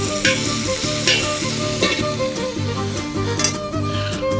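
Bacon sizzling and frying in a pan for discada tacos, a steady close crackle with a few stirring scrapes on top and no voices.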